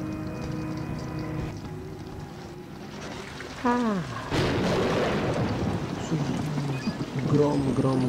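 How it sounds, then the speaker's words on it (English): Thunder in the horror game Outlast rumbles and cracks over steady rain, a loud crash rising midway and rolling on beneath someone talking. "Grom, grom, grom, močen grom."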